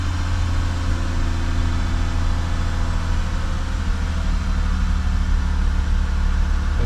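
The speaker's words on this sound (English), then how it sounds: "it is also a cold start, so I'll just let the car run for a few minutes" A Lexus 3.5-litre 2GR V6 idles steadily on a cold start, a continuous low rumble holding at an even, fairly loud level throughout with no voices.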